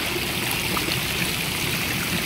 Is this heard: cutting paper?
no